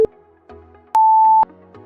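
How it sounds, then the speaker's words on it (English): Electronic workout timer at a home leg workout, giving a few short beeps followed by one longer sustained tone, clear and close with no talk. "I'm going to put on a timer and let's start."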